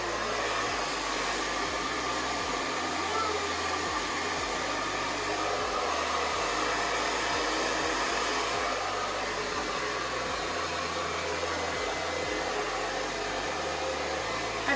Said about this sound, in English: I've never watched myself blow dry my hair before